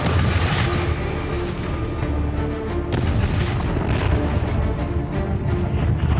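Continuous deep booming and rumbling blasts of medieval cannon fire, with dense low-frequency roar and sharp bursts recurring throughout.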